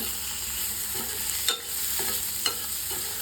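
A spoon stirs brinjal and mango curry in a pan, with a continuous sizzle and a few sharp scrapes and taps against the metal.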